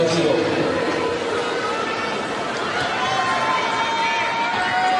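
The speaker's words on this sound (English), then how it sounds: "Just a buzz in the crowd. It's more like a baseball game. It's never really quiet." Crowd buzz in the stands at a 2006 US Open tennis match between Agassi and Baghdatis, a continuous murmur of many voices and chatter that never drops to quiet, holding at a steady level with a slight dip midway.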